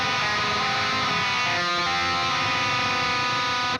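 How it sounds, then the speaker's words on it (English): Electric guitar through a rotary effect and wah pedal, a dense sustained chord with swirling, sweeping tone, close and steady throughout with a brief dip in the middle. "we can use the same tone that we used earlier in the song, which sounds like this with the rotary guitar and the wah pedal"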